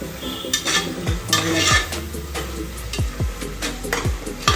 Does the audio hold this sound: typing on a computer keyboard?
no